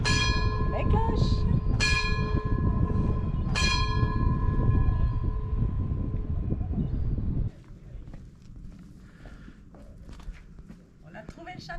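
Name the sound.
church bell ringing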